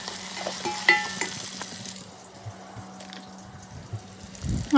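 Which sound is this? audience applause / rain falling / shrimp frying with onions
shrimp frying with onions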